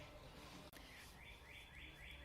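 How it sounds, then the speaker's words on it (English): Outdoors in sunny weather, a bird sings a repeated series of bright, high chirping phrases, faint and distant against a soft background hiss, with one brief click partway through. "Really excited about that bird. Do you hear that bird?"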